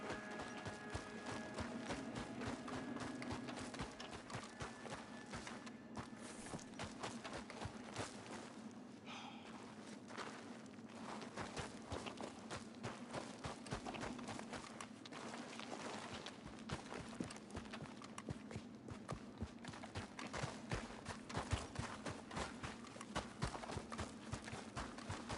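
Horse hooves clip-clop at a steady walking rhythm in the Red Dead Redemption 2 video game, fairly close and continuous through the whole stretch, with faint snorts and no talk.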